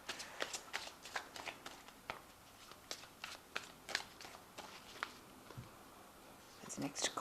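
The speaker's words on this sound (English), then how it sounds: "Now I have shuffled this deck." A tarot card deck being shuffled close up and quietly, a string of crisp riffling flicks and soft card slaps in an irregular rhythm, with a brief rustle of handling at the end.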